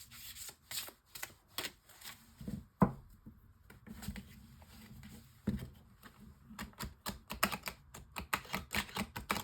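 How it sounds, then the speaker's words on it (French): Witchy Lenormand oracle cards being shuffled for a nine-card spread, a close, dry run of quick flicking and rubbing taps in irregular bursts with a few sharper snaps, no voices. "Je vais faire un tirage en 9 cartes"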